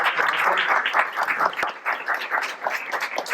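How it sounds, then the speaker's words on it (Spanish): Audience applause at a talk about a Christmas bird count in Quito, a lively burst of many hands clapping with uneven rhythm, close and fairly loud throughout. "quisiera que le demos un aplauso a las personas que ya conocen"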